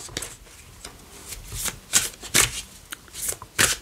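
A deck of Tao oracle cards being shuffled by hand, close and crisp, with a series of sharp riffling bursts that grow denser toward the end, no voices present.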